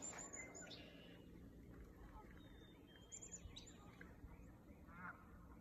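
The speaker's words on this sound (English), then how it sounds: "Can hear the geese honking and the red wing blackbirds calling." Geese honk and red-winged blackbirds call at a quiet river on a spring morning, faint distant chirps and calls over steady flowing water and low ambient noise.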